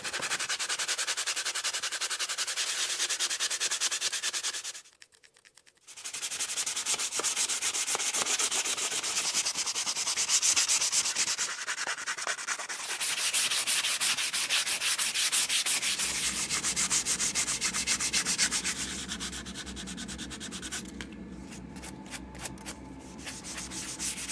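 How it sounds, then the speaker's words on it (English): Fine-grit sandpaper, around 150 to 220, rubbing steadily over a handmade wooden sword in long, even strokes, close and continuous apart from one brief pause. "I'm going to finish this off with a fine grit. I'm looking for 220 or 150, something like that."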